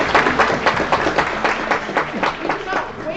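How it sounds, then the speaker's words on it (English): A crowd at a startup demo day gives a round of applause, producing steady, moderately loud clapping that continues throughout. "Let's give them a little round of applause"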